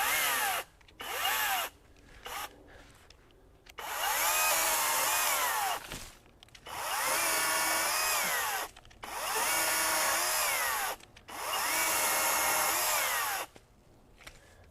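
An EGO 56V electric 13-foot telescoping pole saw with a 10-inch bar whines loudly in repeated bursts, revving up and cutting a limb several times, each burst stopping abruptly as the chain brakes, with short quiet gaps between.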